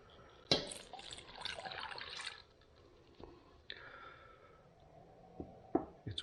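Water splashing and sloshing as it is worked into sourdough bread dough by hand, with a sharp splash early on, then intermittent wet squelches and drips, close and moderately quiet.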